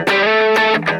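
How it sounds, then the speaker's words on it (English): A short, loud burst of distorted electric guitar, a buzzing, harmonically rich chord ringing briefly with a couple of quick re-attacks. "But then I turn on the distortion."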